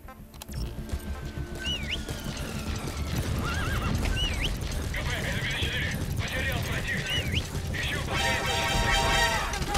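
Horse neighs with rising whinny calls and steady clip-clop of hooves in Metal Gear Solid V: The Phantom Pain, layered over a dense game soundtrack and effects, with a voice talking along.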